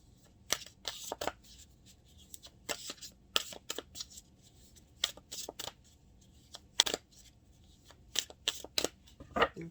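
Tarot cards being shuffled by hand during a reading: repeated crisp riffling bursts and soft slaps come in quick clusters with short pauses, close and fairly quiet, with no talking.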